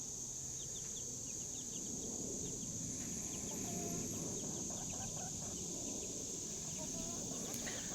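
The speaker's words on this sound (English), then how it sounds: "I have 4 chicks in there" Four young chicks cluck and peep faintly in a backyard coop, soft scattered calls beneath a steady high insect-like hiss and background noise, with a voice murmuring.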